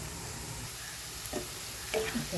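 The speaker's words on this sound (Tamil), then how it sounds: "நல்லா உள்ளெல்லாம் பொரியட்டும்" Soya chunks frying in hot oil give a soft, steady crackling sizzle close by, with a couple of light stirring scrapes breaking through.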